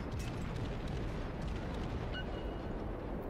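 Naval gun shells from cruisers striking an enemy ship in the World of Warships naval battle game, a dense, steady rumble of distant impacts and explosions with faint crackles throughout.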